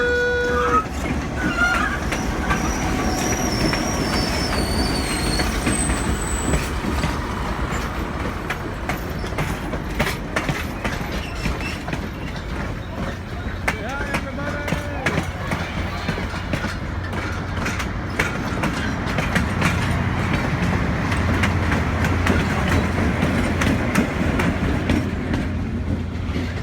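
Train cars rolling past on rails in Duluth, a continuous loud rumble with clickety-clack wheel rhythm and occasional squeals, close by and steady throughout, with faint voices in the background.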